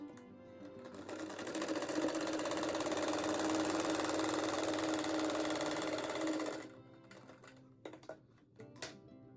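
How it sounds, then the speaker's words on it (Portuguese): A sewing machine runs steadily for several seconds, stitching fabric squares together for a rug, then stops, leaving a few scattered clicks and handling sounds from the fabric and machine. "faz uma costura a cada lado do risco"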